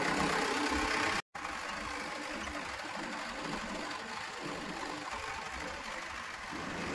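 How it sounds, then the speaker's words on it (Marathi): A mid-pitched tractor engine idles and chugs steadily with a rhythmic knock, briefly cutting out near the start before resuming at a constant level. "एकदम खास ट्रॅक्टर चालवत आहेत सर."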